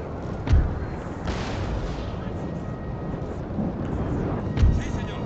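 Artillery firing in the Napoleon Total War Darthmod video game, with a few distant booms spaced apart over a continuous rumbling battle backdrop, fairly faint rather than close.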